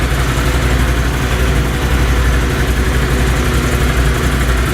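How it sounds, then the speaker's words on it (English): A Can-Am Renegade 570 ATV's twin-cylinder engine runs close and loud, a steady throbbing rumble with no breaks. "the Renegade still has that awesome Can-Am sound with their twin cylinders"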